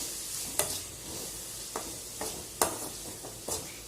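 Masala sautés in oil in a pan over a low flame, giving a soft, quiet hiss. Five or six distinct spatula scrapes or taps land at irregular intervals, and no one speaks.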